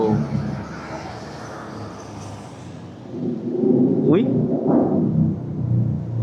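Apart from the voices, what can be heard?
vehicle rumbling through Asin tunnel, echoing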